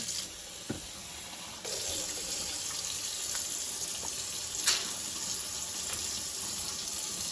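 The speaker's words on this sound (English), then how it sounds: "we're gonna put some hot water in here" Hot water runs steadily from a tap into a bong being filled for cleaning, a continuous close hiss and splash that swells slightly partway through, with a few light knocks.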